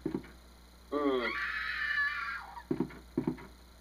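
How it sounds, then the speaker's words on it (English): A stock scream sound effect from the Resident Evil 2 video game rises as a brief, faint, shrill cry, framed by short, muffled vocal bursts just before and after it. "Stock Scream footage? Somebody died."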